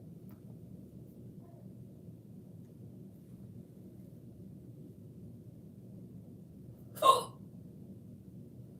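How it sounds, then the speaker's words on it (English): A single short hiccup pops out close and abrupt from a woman during an indoor livestream, standing alone above a low, steady room hum. "now I got the hiccups"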